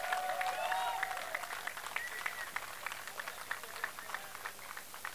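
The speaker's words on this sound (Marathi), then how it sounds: "एकदा ताडदेव टीमसाठी जोरदार टाळ्या झाल्या पाहिजेत" An audience at a prize distribution ceremony for a Western Line premier league applauds the Tardeo team, the clapping sounding distant and fairly faint, steady at first and then thinning toward the end, with a few high whistles near the start.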